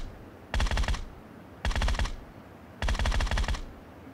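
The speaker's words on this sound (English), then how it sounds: "let's go ahead and listen to what a suppressed Groza sounds like at a distance" Three short bursts of rapid fire from a suppressed Groza rifle in PUBG, heard at a distance, each burst lasting about half a second with pauses between them and no voices.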